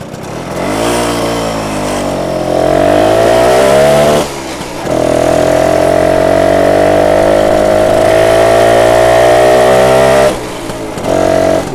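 A 1967 BSA Bantam D10 175 motorcycle engine warms up, its loud, buzzy two-stroke note rising and falling as it revs, dropping briefly twice before picking up again.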